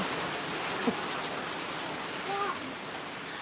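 Steady rain falls while walking through the slums of Klongtoey, a constant wash of drops on surfaces with a few brief faint voices and small sounds in the background.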